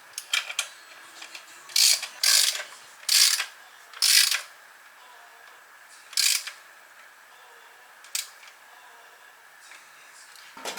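A dead blow hammer taps on a newly fitted water pump, giving a handful of short, crisp knocks: four in quick succession, then a few more spaced apart, close and moderately loud over a quiet room.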